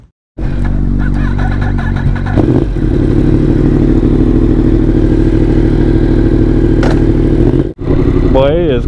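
Several sport bikes, a Yamaha R1, Kawasaki ZX10R and BMW S1000RR, run together in a loud, sustained engine roar that holds steady for most of the stretch, then briefly dips and surges back near the end.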